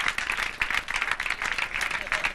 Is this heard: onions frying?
no